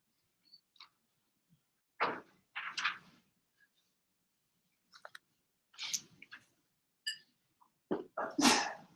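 Quiet clicks and breaths, then one loud, sharp sneeze bursts out near the end.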